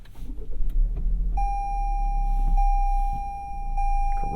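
A 2022 Toyota Corolla Cross engine cranks and settles into a smooth, quiet idle inside the cabin, while a steady electronic chime tone sounds over the engine.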